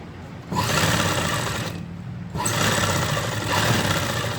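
Sewing machine running steadily while stitching along a kurti neckline, a loud continuous motor whir with a brief pause before starting again, near and alone.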